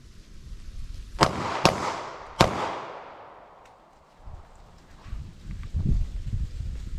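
Three sharp pistol shots from a short-barreled .40 S&W in a Mozambique drill, two quick body shots then a head shot, each cracking loud and echoing outdoors, followed by faint handling noises.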